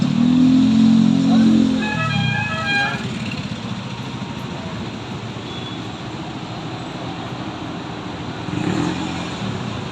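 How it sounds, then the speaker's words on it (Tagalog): Traffic rushes past on a street in Divisoria, Manila, with a loud vehicle horn or engine tone up front, then a broad steady whoosh of passing cars and a further swell near the end. "Kaya yung mga sasakyan magbibilis."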